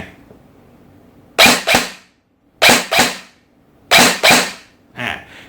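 An electric DoubleEagle B&T APC5.56 airsoft gun fires three sharp bursts of two quick snapping shots each, evenly spaced in otherwise quiet surroundings, followed by a softer fourth shot.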